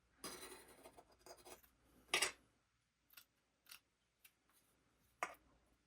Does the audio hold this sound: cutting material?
yes